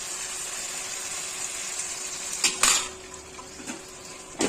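A metal lid set down on a cooking pot, a few close clattering clanks over a quiet hissing background, one louder clank followed by softer knocks.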